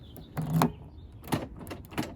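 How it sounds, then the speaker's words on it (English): A car door lock cylinder worked with a key, giving a few sharp mechanical clunks and clicks of the lock actuating, close by and spaced irregularly over about two seconds. "So you go lock, unlock 5 times."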